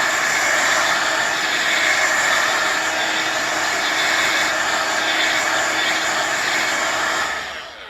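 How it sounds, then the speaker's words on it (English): Blow dryer used as a heat tool to dry watercolor ink runs as a loud, steady close-up whoosh for about seven seconds, then cuts off and fades at the end. "But I want you to see what happens when you use the blow dryer."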